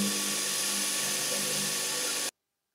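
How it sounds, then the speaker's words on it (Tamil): A Ralli Wolf RCD21 cordless drill boring into wood gives a steady, loud, close whirring grind for a little over two seconds, then cuts off abruptly into silence. "வச்சாலே ட்ரில் இறங்கிடும்."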